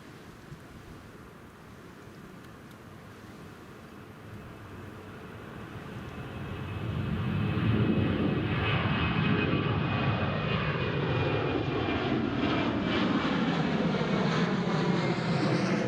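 A Jet2 jet airliner rolls for takeoff at Newcastle International Airport in a crosswind, its engine roar building from a distant hum to a loud, sustained rumble and whine that holds steady as it accelerates.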